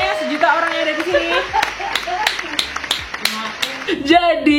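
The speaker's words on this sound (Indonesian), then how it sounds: "Tepuk tangannya mana?" Handclaps at a product launch event, a string of sharp, scattered claps of uneven rhythm, close and fairly loud, interleaved with ongoing talk.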